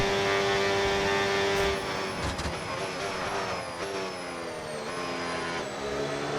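F1 26 race cars screaming past at high revs, with rising and falling engine pitch and gear shifts during an overtake on a Ferrari near the end of a race, loud and continuous.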